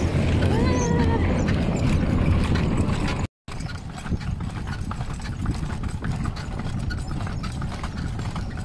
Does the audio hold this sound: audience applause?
no